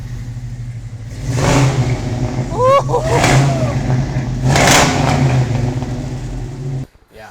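Loud cammed Vortec 6.0 V8 in a 1969 GMC C1500 stepside truck rumbling past with lumpy throaty revs swelling and fading, while onlookers cheer and talk excitedly nearby.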